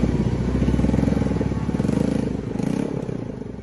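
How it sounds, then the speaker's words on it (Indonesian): A motorcycle engine runs loud and close while the bike is pushed along a thick muddy rural road, its steady rumble throbbing without a break and a faint scraping clatter over it. "Sepeda motor warga ini terpaksa harus didorong oleh temannya di jalan yang berlumpur tebal"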